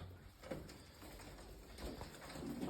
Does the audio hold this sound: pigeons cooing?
yes